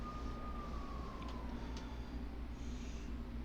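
Police sirens in the video game Persona 5, a faint wailing tone sliding downward beneath a steady background hum of game ambience.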